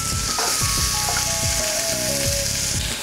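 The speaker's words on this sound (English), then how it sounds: "So let's get this frying pan going on here." Onions frying in a little oil in a frying pan, a steady close sizzle running throughout with occasional clinks and scraping stirs.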